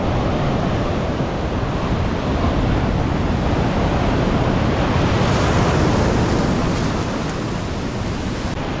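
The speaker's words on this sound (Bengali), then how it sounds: "এত ঢেউ।" Ocean waves at Puri beach crashing and rolling continuously, a loud, dense wash of surf with wind buffeting the microphone throughout and no voices.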